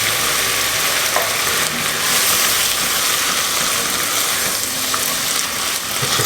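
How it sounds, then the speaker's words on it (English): Pernod cooking down in a pot of Mediterranean fish soup, making a loud, steady bubbling sizzle that continues throughout. "Let's just cook down the alcohol."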